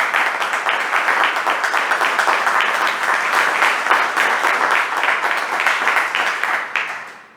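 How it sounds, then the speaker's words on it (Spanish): Dense audience applause fills a civic centre conference hall in Barcelona, loud and sustained for several seconds before fading at the end, with no voices over it. "Un aplauso."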